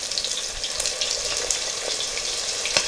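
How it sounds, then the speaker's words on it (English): Chicken frying in oil in a cast iron skillet, a steady bright crackling sizzle with scattered sharper pops of grease, close and continuous with no talking. "the oil is the popping of the grease."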